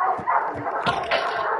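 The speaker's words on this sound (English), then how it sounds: "annoying ass fucking dogs" Dogs barking in the video game Call of Duty, a run of short yips and barks clustered close together over steady game ambience, with the barks overlapping one another at moderate loudness.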